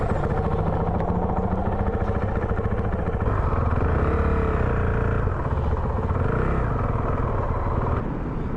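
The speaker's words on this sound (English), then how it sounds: "So I've just hopped on this bike" Honda CRF450L dual-sport motorcycle engine running steadily while being ridden, a continuous close, loud rumbling drone with slight rises in revs and no speech.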